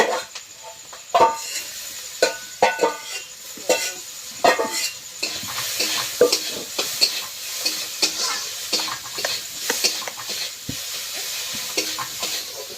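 Prawns fry and sizzle in hot oil with turmeric, ginger and garlic, a steady crackling hiss broken by repeated stirring clatters of a spatula against the pan, close and continuous throughout.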